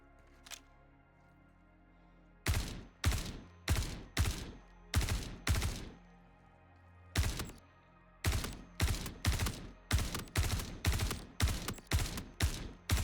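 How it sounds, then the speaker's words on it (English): Gunfire from the video game Star Citizen: a lone faint shot, then loud rapid volleys of bullets in short bursts with brief gaps between, heard close and clear with no talk over it. "That was a lot of bullets."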